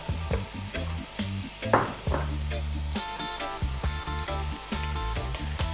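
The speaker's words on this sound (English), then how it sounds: "We're going to drop in now that onion" Chopped onion hits hot seasoned oil on a just-below-medium flame and sizzles at once, a loud sustained frying hiss with stirring scrapes, while music plays underneath.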